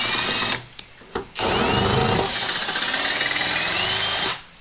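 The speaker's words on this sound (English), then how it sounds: "Now I'm going to go ahead and drill the hose." A power drill bores mounting holes through lower door armor on a Jeep XJ, running in a loud sustained whine for several seconds after a couple of short trigger bursts, with no talking.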